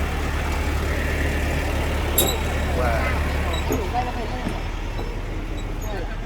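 A local bus engine idles at a busy roadside in Vietnam with a brief hiss of air brakes, while traffic rumbles and people talk nearby.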